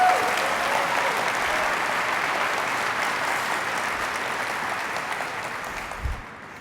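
Dense, sustained applause from a large keynote audience at AWS re:Invent 2023, honouring a string quartet; a steady wash of clapping that tapers slightly toward the end.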